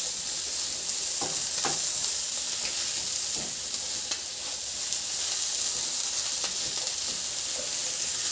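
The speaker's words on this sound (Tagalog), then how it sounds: "itabi ko muna yan sa kawali at ilagay ko na yung sibuyas" Sliced onions fry in a hot pan after eggs for a cabbage dish, with a steady, bright sizzle and occasional light clicks of stirring.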